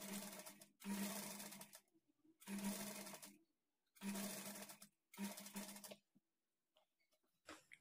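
A sewing machine stitches piping cloth onto a lining blouse in short bursts: five runs of fast, steady whirring, each about a second long, broken by brief pauses, loud and close with no talking.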